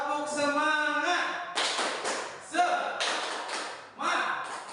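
Schoolchildren perform the tepuk semangat spirit clap in a classroom, giving several bursts of crisp group claps in a rhythmic pattern. Voices chant and speak between and under the claps.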